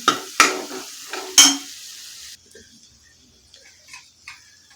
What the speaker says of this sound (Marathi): आलं लसूण आणि खोबरं आहे तो ते लालसर होईपर्यंत परतून घ्यायचं आहे